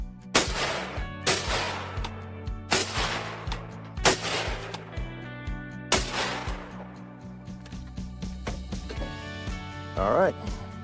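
Rifle shots fired at a target while zeroing a Trijicon ACOG scope on a range, a series of about five sharp, loud reports spaced roughly two seconds apart, each ringing out with a short echo.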